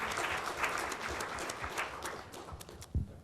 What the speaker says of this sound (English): Yeah, can we have a big round of applause?